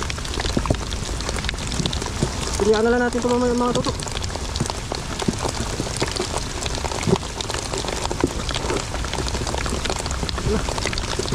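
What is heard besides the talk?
heavy rain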